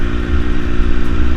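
A 2009 Triumph Daytona 675 motorcycle with 41,000 km idles up close, a steady low engine rumble with lightly fluctuating pulses and no voices over it.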